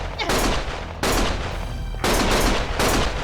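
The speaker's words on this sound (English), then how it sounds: "Stop shooting!" Gunfire bursts from the video game Lost Judgment, loud, close volleys at roughly one-second intervals, with three dense blasts of rapid shots separated by brief echoing decays.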